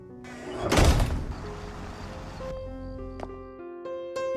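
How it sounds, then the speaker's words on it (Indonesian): A storage room door is forcefully broken down with one heavy, loud crashing thud, followed by a rattling decay over a steady musical background. "Corey pun mendobrak pintu gudang itu dengan sangat keras"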